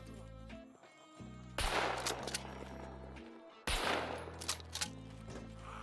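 Two heavy suppressed gunshots from the video game Scum, each a sudden loud burst followed by a rumbling tail, about two seconds apart over droning game music.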